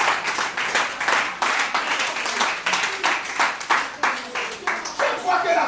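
Audience at a preaching and revelation service claps throughout, a dense, steady patter of many hands with rhythmic surges, close and moderately loud.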